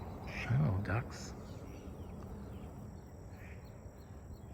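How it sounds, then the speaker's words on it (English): Ducks quack in a garden food forest of fruit trees, a short burst of a few calls close by near the start, then fading into quiet outdoor background. "Oh, ducks."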